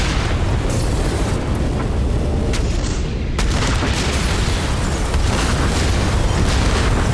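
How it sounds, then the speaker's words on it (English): Spaceship cannon fire and torpedo explosions in the video game Everspace 2 roar together into a dense, rumbling barrage, loud and relentless, with sharper bursts cutting through the continuous din. "Adam, there is a barrage of torpedoes incoming. Intercept as many of them as you can"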